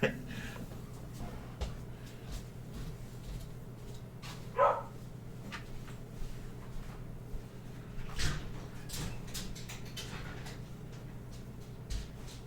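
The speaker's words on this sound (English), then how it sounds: "I gotta let the other two dogs back inside" A few short dog barks sound at a moderate distance, standing out briefly over a steady background hum and other low noise.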